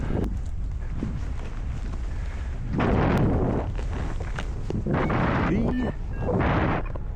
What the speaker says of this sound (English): The wind was already starting to pick up and I could feel the gusts starting to come through.